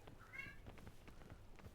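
A single short, faint meow from a cat carries from some distance over a quiet background.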